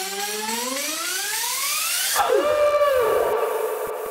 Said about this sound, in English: That howling noise